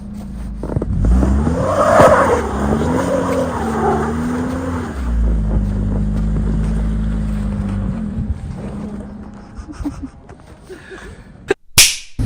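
Mazda Miata engine idling and revving loudly nearby, with steady low rumble and rising pitch swells early on, then a flatter running drone before sharp clicks near the end.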